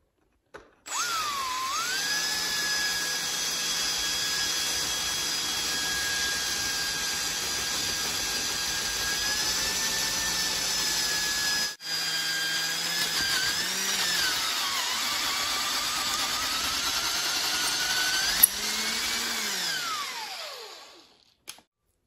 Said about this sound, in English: we'll get the other side drilled out